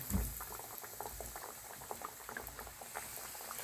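A chicken tender, lowered gently into hot oil in a frying pan, sizzles and bubbles steadily with dense crackling pops, close and fairly quiet, no voices.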